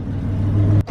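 A classic car with an automatic transmission rumbles close by for under a second in a low, loud engine drone that cuts off sharply at the end.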